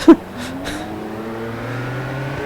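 An IndyCar race car engine fires up and revs, a rising mechanical whine climbing steadily after a brief thump at the start, heard close and alone.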